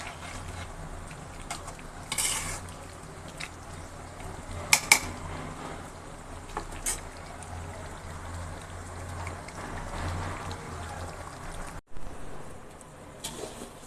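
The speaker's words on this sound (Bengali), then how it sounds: "মাংসটা দিয়ে এখন কষিয়ে নিব।" Chicken, two kilos of it, being stirred and sautéed in a pot for chicken tehari: a continuous low frying hiss with scattered scrapes and metallic clinks of the spoon against the pot, no voices.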